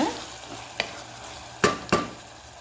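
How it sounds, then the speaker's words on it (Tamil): Tomatoes with ginger garlic paste sauté in a pan for soya gravy, a low sizzle broken by three distinct scraping stirs of a spoon, close and moderately loud. "தக்காளி நல்லா வதங்கட்டும் நல்லா மிக்ஸ் பண்ணி விட்டுடலாம்"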